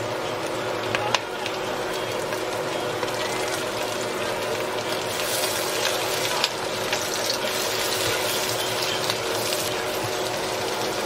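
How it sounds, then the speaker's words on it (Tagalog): Garlic and onion sizzling in hot oil in a pan, a steady dense crackle and hiss that holds throughout at close range, with a few sharp clinks of utensil against the pan. "Pwede na tayo mag-start mag-gisa."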